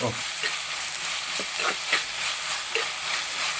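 Sliced onions frying in a pan for a Kottayam-style fish head curry, a steady bright sizzle with occasional scraping stirs throughout, close and alone.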